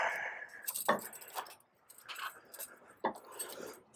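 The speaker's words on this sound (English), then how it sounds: "Get the keys out of my pocket." Keys jangling as they are pulled from a pocket beside a 1971 Toyota FJ40, several quiet close metallic clinks and rustles in a sparse, irregular pattern.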